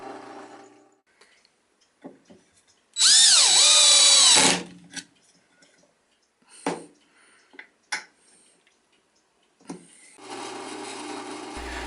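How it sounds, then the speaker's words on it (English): A power drill drives screws into a wooden clock case, one loud whirring burst of about a second and a half, close up, followed by scattered clicks and handling knocks and a brief second whir at the end. "So I'm just going to put in a couple of screws here to play it safe."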